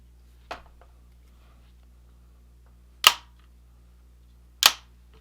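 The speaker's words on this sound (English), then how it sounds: "we're going to extend it up to 9 inches and we're going to see how much flex it has" A CVLife rifle bipod has its legs extended out to 9 inches, giving three sharp, separate clicks spaced a couple of seconds apart over a quiet background.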